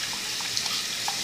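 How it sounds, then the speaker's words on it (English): Tap water runs steadily into a sink during handwashing with soap, a continuous close hiss with faint splashes and no talk. "I take soap and wash my hands with this"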